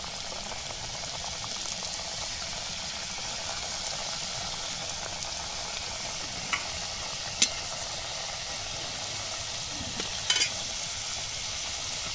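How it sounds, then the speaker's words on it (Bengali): Singara (samosas) fry in a pan of bubbling oil in a remote Sundarbans village, a steady even sizzle throughout with a couple of faint clinks. "আমার কিন্তু সিঙ্গারা ভাজা কমপ্লিট হয়ে গেছে।"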